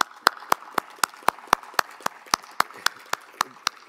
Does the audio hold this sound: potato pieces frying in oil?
no